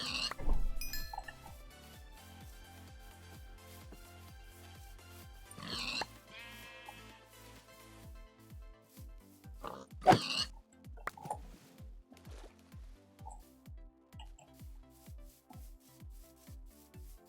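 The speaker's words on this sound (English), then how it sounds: "More pigs." Pigs grunt and oink repeatedly in a modded Minecraft world, the snorts mixed with clicking footsteps and light clinks of game sounds. The volume stays fairly low throughout.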